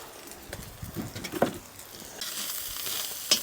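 Onions browning in a pan set over an outdoor wood fire, with steady sizzling that swells into a brighter crackle, broken by a few scraping stirs and knocks, heard close up.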